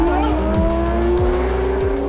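A car engine drones loudly and steadily close by, with tires squealing as it drives along, at a motorcycle season opening event in Odesa, Ukraine.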